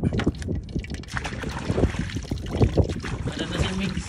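A boat out in the middle of the open sea, with a continuous rush of wind and water noise buffeting the microphone at close range. No clear speech stands out.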